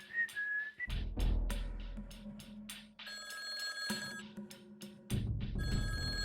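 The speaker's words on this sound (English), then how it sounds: "Don't answer, don't answer that phone" A telephone rings in bursts of trilling, bell-like tones separated by brief gaps, alternating with clattering, buzzing electronic sounds, loud and close with no speech.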